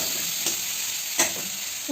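Onion and capsicum sizzle steadily in a hot pan, with a utensil scraping and stirring through them in a couple of distinct strokes, close and bright over the constant hiss of frying.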